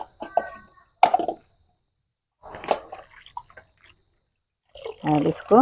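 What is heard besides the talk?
washing bitter gourd in salted water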